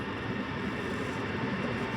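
A passenger train pulls into Warszawa Zachodnia station, heard as a broad, steady rolling rumble with wheel noise, fairly distant and continuous, with no voices over it.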